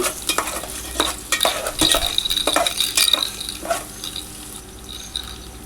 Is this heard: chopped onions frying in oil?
yes